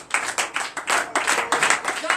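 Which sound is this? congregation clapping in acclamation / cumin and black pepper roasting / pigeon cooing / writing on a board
congregation clapping in acclamation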